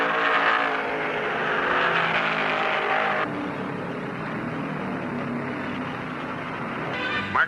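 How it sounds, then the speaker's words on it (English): A televised stock car race with an AMC Matador leading, the cars' engines roaring in a steady, dense drone that shifts in character partway through, like cars sweeping past, with no voices over it. "Mark's Matador is number one and moving away."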